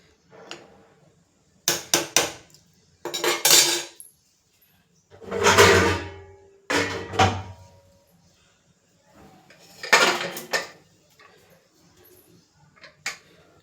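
The lid of a pressure cooker is handled and closed over vegetable pulao, with several separate metallic clunks and scrapes spaced across a quiet kitchen.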